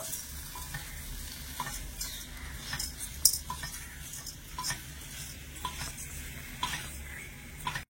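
Lemon juice and sugar being stirred into a mixture in a pan, a steady scraping and stirring with soft sizzling underneath, spoon clinks popping out here and there, close and fairly quiet.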